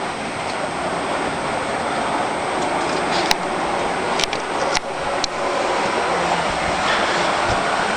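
Model railway trains run in a steady, close whirring rumble, with a few sharp metallic clicks and clacks breaking through midway.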